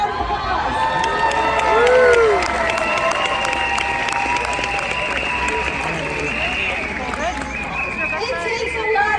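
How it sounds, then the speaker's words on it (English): A large crowd at a motivational speaking event in Las Vegas applauds and cheers for an audience volunteer, a dense roar of clapping and whoops with scattered shouts rising early, then holding steady. "Everyone give them a round of applause."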